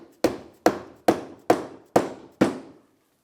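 Six sharp, evenly spaced knocks as a metal support is hammered into place on a Can-Am Defender headache rack, each hit ringing briefly, close and fairly loud with no talk.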